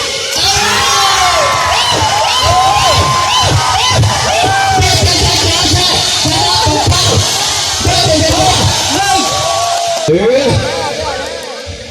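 A large crowd cheers and shouts loudly and continuously, with children's voices and whoops rising over the roar, before it tapers off near the end.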